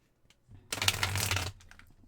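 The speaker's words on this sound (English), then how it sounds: "That was a terrible shuffle." Tarot cards being shuffled in a single quick riffle, a close, dense burst of papery flutter lasting under a second, with faint card taps before and after and no voices.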